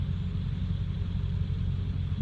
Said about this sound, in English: this is the truck at idle